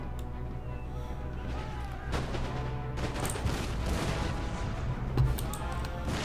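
Round shot artillery fire in Empire Total War, a rolling fusillade of booming cannon shots with sharp cracks near the middle and end over a continuous low battle rumble.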